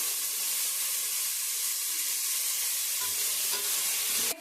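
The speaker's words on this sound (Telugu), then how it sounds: "బీన్స్, నూకోళ్ళు, బఠానీలు అంతా వేస్తున్నానండి. కాసేపు బాగా ఫ్రై చేసుకున్నాము" Beans, field beans and peas with mint and coriander frying in a pan for vegetable rice, a loud unbroken sizzling hiss with occasional stirring scrapes, ending in a sudden clatter, no one speaking.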